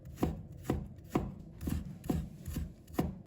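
Knife chopping ginger into thin shreds on a cutting board, six crisp, evenly spaced thuds about half a second apart, close and fairly quiet with no talk.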